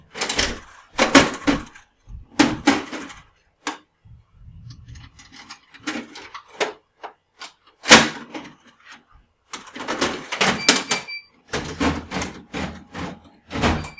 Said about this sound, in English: make sure that you close the safe door when you're done emptying